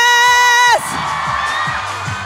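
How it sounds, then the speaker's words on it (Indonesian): A studio audience at a talk show erupts into steady cheering and applause after a brief sustained tone, the crowd noise staying loud and dense to the end. "Kita kasih tepuk tangan dong"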